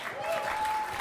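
Audience applause heard in a replayed speech excerpt, a faint, steady patter of clapping lasting about a second.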